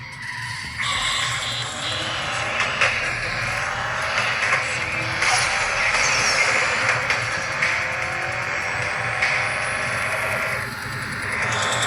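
A race car engine in the mobile game Need for Speed No Limits, played on a TCL Stylus 5G phone, drones steadily at moderate level through a career race, with occasional brief accents and no speech.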